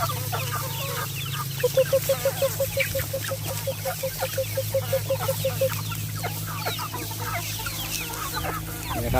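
Free-range chickens on a natural farm, a hen giving a quick run of rhythmic clucks amid scattered pecking and rustling, with a low steady hum underneath.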